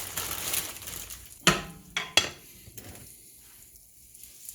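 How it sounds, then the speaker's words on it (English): Green beans hit a skillet of hot bacon grease and butter, a soft sizzle running under a few sharp clanks and scrapes of a utensil against the pan, close and fairly quiet. "I'll saute up some green beans to go with it"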